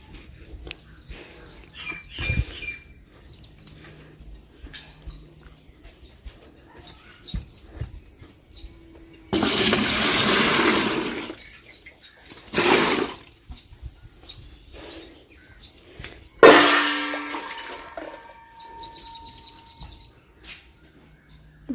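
Water is poured into a bucket in a home kitchen, with several separate gushing splashes of a few seconds each. Quiet background noise and faint chirps fill the gaps between pours.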